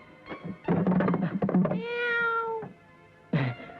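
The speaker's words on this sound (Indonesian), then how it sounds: "Kucing." A cat meows several times nearby, short choppy cries followed by a long drawn-out meow, then one more brief call after a pause.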